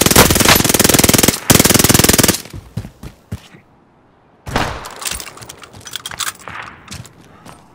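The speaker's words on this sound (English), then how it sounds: "Yes, under heavy fire here." Loud, rapid automatic gunfire from the video game Call of Duty Warzone rattles in a long sustained burst, gives way to scattered single shots and a short near-silence, then returns in heavy bursts with more separate cracks.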